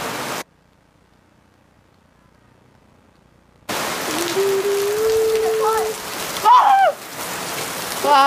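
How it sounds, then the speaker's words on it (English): A brief silence gives way to a steady wash of heavy rain, with faint tonal sounds and a short louder burst partway through. "Wow, there's so much rain"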